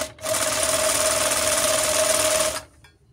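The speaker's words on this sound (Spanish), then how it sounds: "Ahí sigue cosiendo" An FN10 overlock sewing machine runs in one continuous, loud, close whirring burst for about two and a half seconds, then stops abruptly.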